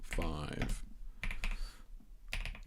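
Clicky keystrokes on a computer keyboard come in short bursts between stretches of someone talking, close and moderately loud.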